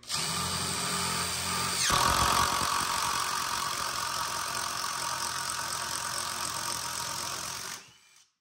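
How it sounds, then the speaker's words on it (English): A power drill whirs continuously, bogging slightly as it bites into wood during a home gym renovation, then winds down and stops at the end. "I usually drill, like pull it out while you're drilling"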